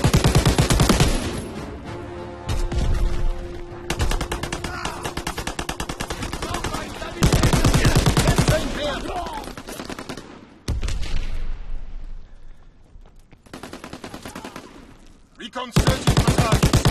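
Bursts of rapid automatic gunfire dominate a battlefield shooter match, loud and near, broken by brief pauses and scattered single shots, with shouted commands now and then over the shooting.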